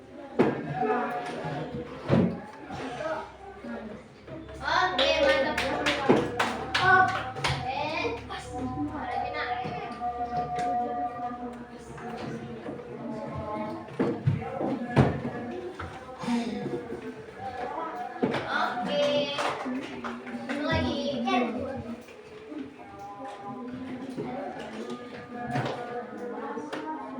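A grade 5 Indonesian-language primary class performs the rhythmic tepuk semangat clapping chant: bursts of sharp claps in a patterned beat, mixed with loud children's voices chanting throughout a busy classroom.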